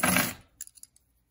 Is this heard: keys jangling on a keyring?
yes